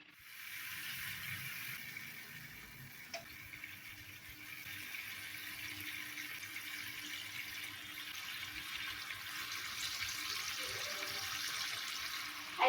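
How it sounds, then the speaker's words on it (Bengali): Hilsa fish simmering in a boiling poppy-seed gravy gives a steady, close hiss of bubbling and sizzling that runs alone for the whole stretch, with a brief clink near the end. "ঝোলটা ফুটে গেছে।"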